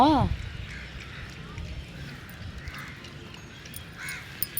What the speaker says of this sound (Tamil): காக்கா அதே ஒரே நிறைய பறந்து போகுது